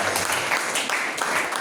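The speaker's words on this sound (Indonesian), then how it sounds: "Tepuk tangan buat teman-teman." Applause from a congregation at a Sunday worship service, a broad even wash of clapping that stays steady and fairly loud throughout.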